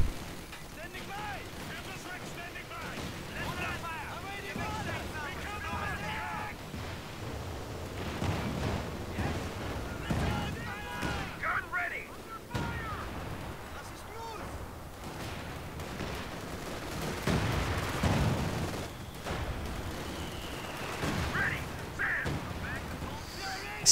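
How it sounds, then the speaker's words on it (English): Howitzer mortar carriage shelling in Company of Heroes 2, with repeated booming artillery blasts and crackling gunfire mixed into a dense battle soundscape under steady commentary talk. "Howitzer mortar carriage, paying for itself eventually. Doing its job"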